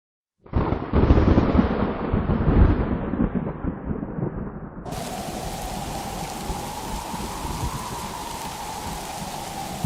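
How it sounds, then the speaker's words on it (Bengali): Heavy storm with strong wind and pouring rain around a raft in a Bengali village flood, loud and continuous throughout, the rain roaring steadily after a brief moment of silence at the start. "কি ভয়ঙ্কর বাতাস আর বৃষ্টি"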